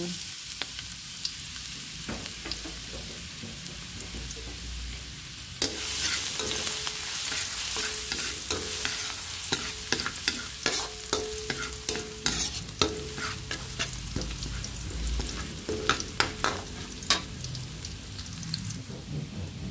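Garlic browning in oil in a pan, a constant sizzle broken by frequent scraping stirs that grow busier and louder after the first few seconds, with no voices.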